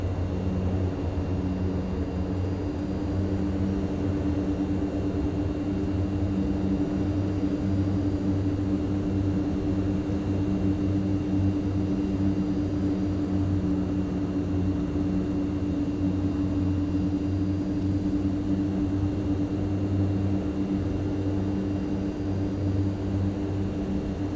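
Turboprop engines of a Mitsubishi MU-2 aircraft drone steadily at close range with reverse thrust engaged, a loud continuous roar with a low hum and no voices.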